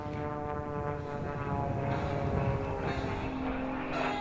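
An aerobatic airplane flying a shark's tooth maneuver at an air show, straight up then down a 45-degree line with rolls, gives a steady droning engine tone that holds at a constant, fairly loud level throughout.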